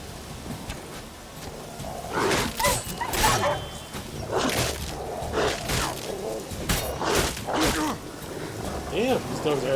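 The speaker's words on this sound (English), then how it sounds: "So these stray mutts form packs." Stray dogs in The Witcher 3: Wild Hunt game barking and snarling in repeated sharp bursts, loud and close, with a few whimpering yips between them.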